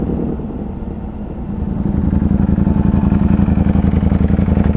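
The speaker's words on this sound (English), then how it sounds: "I hear that Ducati anyway." A Ducati motorcycle engine rumbles steadily, then its pulsing beat grows louder and more insistent as the bike draws near, heavy and close throughout.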